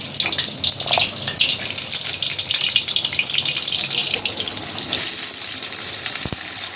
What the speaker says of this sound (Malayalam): നമുക്കിനി പുളി ഇട്ട് കൊടുത്ത് ഒന്ന് എണ്ണയിൽ വഴറ്റിയെടുക്കാം.